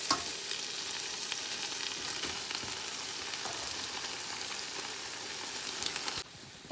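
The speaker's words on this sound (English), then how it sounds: "So rice is going in little by little and we will mix." Rice for vegetable fried rice goes into a hot pan and is mixed. A dense, steady sizzle runs throughout, with scraping stir strokes, and cuts off abruptly near the end.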